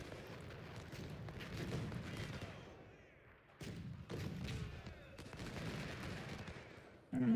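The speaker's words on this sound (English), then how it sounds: "now our cannons are starting to do some healthy damage." Cannon and musket fire in the Civil War strategy game Ultimate General: Civil War crackles as faint rolling volleys and booms, swelling and fading in bursts.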